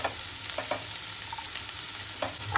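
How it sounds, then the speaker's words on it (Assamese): Finely chopped onions and three green chilies sizzle and fry in a pan while being stirred, a steady close crackle broken by soft scraping strokes of the spoon. "পিঁয়াজখিনি অকণমান ৰঙা হোৱালৈকে অলপ সময় এনেদৰে লৰাই থাকিব।"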